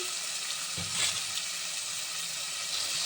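Curry leaves dropped into hot oil for tomato rice crackle and sizzle steadily up close, with a brief burst of louder spitting as they hit the pan, no voices.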